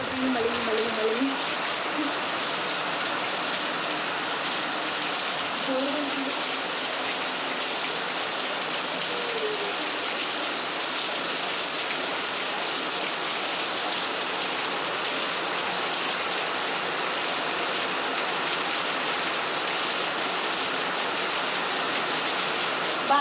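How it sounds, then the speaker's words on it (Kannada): Steady rain falls throughout, a dense even hiss with no letup and a few faint voices or sounds underneath. "ಮಳಿ"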